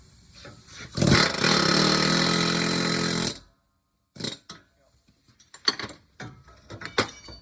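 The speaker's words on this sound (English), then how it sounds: "I'm knocking it out with an air hammer like I did originally" An air hammer knocks the pinion out of a Ford Mustang 8.8 differential during a rebuild, one loud sustained rattling burst of about two seconds, then silence and scattered sharp metallic taps and clanks.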